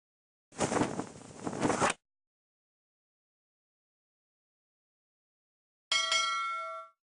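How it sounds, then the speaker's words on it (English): A ship's bell in a sailing adventure video game rings once with a bright, ringing tone that decays over about a second, following an earlier burst of unrelated sound and a long silence. "then ring the bell"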